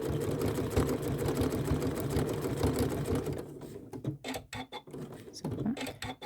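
A sewing machine stitches appliqué onto a sweatshirt, running steadily and loudly for about three seconds, then stopping and starting in short bursts with quiet gaps as the fabric is pivoted.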